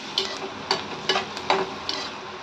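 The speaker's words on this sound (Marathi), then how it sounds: "कांदा आपल्याला परतून घ्यायचा आहे" Finely chopped onion with crushed garlic cloves sautéing in hot oil in a pan, a soft steady frying hiss broken by four or five sharp stirring scrapes spaced about half a second apart, close and moderately quiet with no talking.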